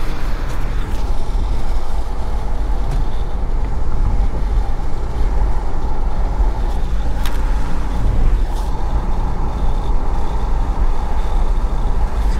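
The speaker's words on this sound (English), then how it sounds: "Seems to be a bit of a rattling noise in the car for some reason. Screeching sound." Steady road and engine rumble inside a car driving at night through Sydney, with faint rattles and a few brief high squeaks over the constant drone; no one talks.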